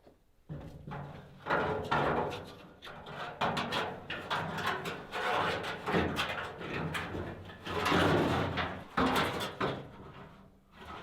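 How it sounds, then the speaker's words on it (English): An interior door being taken off its hinges during homestead renovation work, with a series of knocks, clunks and wooden rattles spread across the clip, fairly close and moderately loud. "I would like to just quickly uninstall the door"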